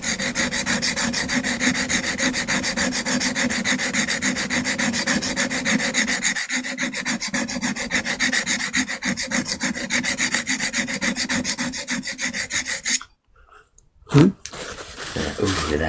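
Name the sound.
sharpening a printmaking tool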